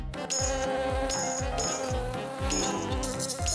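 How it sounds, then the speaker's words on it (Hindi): A housefly buzzes in a cartoon scene, its insect drone weaving through a light, rhythmic music backing. No speech is heard. "हे, गलीज मक्खी, मुझे तंग मत करो।"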